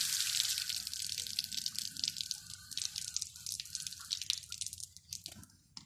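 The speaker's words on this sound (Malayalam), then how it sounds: "ആദ്യമേ വെള്ളം കയ്യിൽ നനയ്ക്കുക" Running tap water splashes over hands, a soft hiss broken by irregular drips and patters that thin out toward the end.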